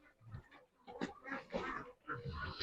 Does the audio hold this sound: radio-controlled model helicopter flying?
no